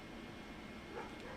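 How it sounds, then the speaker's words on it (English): Several dogs bark and yip outdoors at a distance, likely set off by cats outside; the sound is faint and muffled under a steady room hum, with a slightly louder burst near the end. "They don't bark a lot unless there's something going on."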